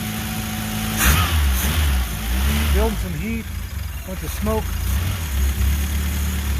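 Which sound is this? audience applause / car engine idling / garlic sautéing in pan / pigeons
car engine idling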